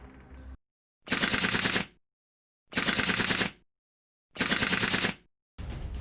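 Bursts of rapid automatic gunfire from a zombie shooting video game, three loud sustained volleys with silent gaps between, plus clipped fragments at the start and end.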